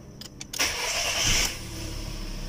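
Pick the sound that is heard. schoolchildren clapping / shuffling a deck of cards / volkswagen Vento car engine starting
volkswagen Vento car engine starting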